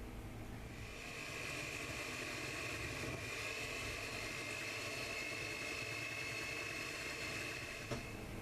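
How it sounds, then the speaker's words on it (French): An electric hand mixer beats cinnamon cake batter at low speed, giving a steady, fairly faint motor hum that keeps going with no talking. "on va prendre notre batteur électrique et battre toute la préparation à"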